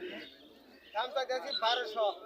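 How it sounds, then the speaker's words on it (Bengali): A black pigeon among birds at a pigeon market in Ashulia, with short cooing and chirping calls close by, mixed with voices talking over the crowd. "আপনারা দেখতে পাচ্ছেন একটি কালো কবুতর"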